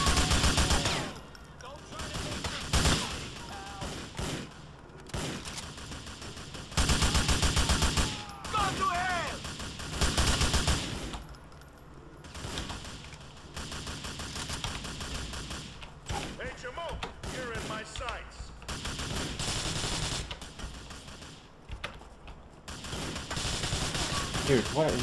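Grand Theft Auto IV gunfire: rapid automatic bursts and single shots repeat loudly throughout, with brief pauses between volleys and voices occasionally speaking over the game.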